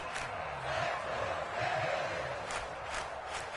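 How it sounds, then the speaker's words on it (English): Football crowd at an IMFL tourney game against the Rams making a steady, distant roar with occasional swells and shouts, faint and continuous without a break. "this crowd doing their best to make a lot of racket"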